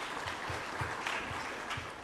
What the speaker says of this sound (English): I think that there is a lot of claps